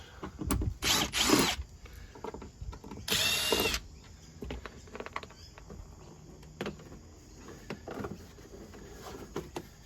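A power drill whirs in two short bursts while backing screws out of a plastic interior panel on a Toyota LandCruiser 100/105 Series, followed by quieter clicks and handling noises nearby.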